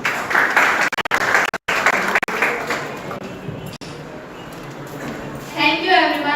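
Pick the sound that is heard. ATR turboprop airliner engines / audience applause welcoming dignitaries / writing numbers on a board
audience applause welcoming dignitaries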